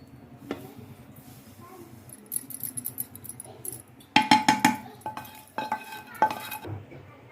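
Roasted semolina scraped and scooped from a pan for rava karanji, sharp metallic clinks of a spoon against the pan, sparse at first then a dense burst of clattering scrapes.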